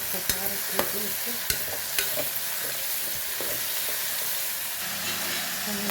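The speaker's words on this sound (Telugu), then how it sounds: "సన్నగా తరిగిన దొండకాయ వేసాను" Finely chopped ivy gourd pieces sizzle steadily in a hot pan for an ivy gourd curry, with a constant frying hiss broken by several sharp scrapes and knocks of a spoon stirring them.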